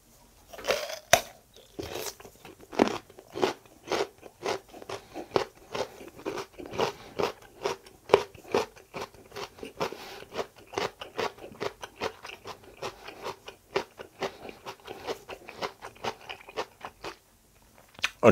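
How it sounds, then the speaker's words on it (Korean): Raw carrot being bitten and chewed close up, a steady run of crisp crunches through the whole stretch with no talking. "당근은 진짜 오랜만에 먹는 거예요."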